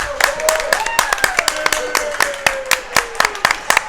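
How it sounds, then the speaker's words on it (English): Hockey arena crowd at a Pens Elite versus London Jr Knights junior game letting out a sarcastic mock cheer, with scattered claps and puck or stick knocks over a steady near crowd roar and a rising and falling whistle-like tone. "As the mock cheer goes up."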